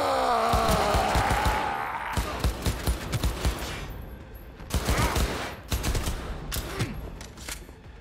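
Gunfire in Cyberpunk 2077 rattles in quick automatic bursts and single cracks, loud and near, thinning out toward the end with brief gaps between shots.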